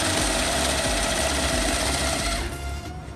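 A cash counting machine with a fake currency detector runs banknotes through at speed, a dense, loud, continuous whirring rattle that tails off near the end with no talking.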